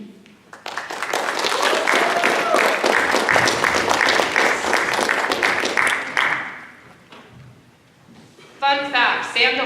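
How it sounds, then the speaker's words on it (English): Audience applause after a spoken oration, dense steady clapping from a crowd that swells for about six seconds, then fades before a voice starts talking. "We want to give Tammy one more round of applause for oration."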